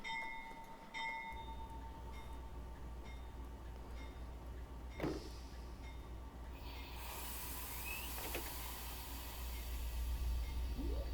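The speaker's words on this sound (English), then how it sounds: "Bell sounds pretty good." In Train Simulator Classic, the locomotive bell of a CP AC4400CW rings faintly with a few metallic strikes early on. A low idling rumble runs underneath, then a loud hiss of air joins in and grows toward the end.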